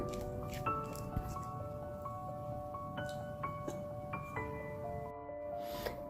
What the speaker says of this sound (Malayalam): ഗ്രീസ് ചെയ്ത് വെച്ചേക്കുന്ന ബേക്കിംഗ് ട്രേയിലോട്ട് നമുക്ക് കേക്ക് ബാറ്റർ കുറേശ്ശെ ഒഴിച്ചിട്ട് കൊടുക്കാമേ